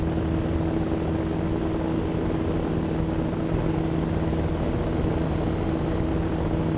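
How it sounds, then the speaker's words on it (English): Propeller aircraft climbing just after takeoff, heard from inside as a loud, constant engine and propeller drone with a steady hum and no break. "Hey, nice takeoff."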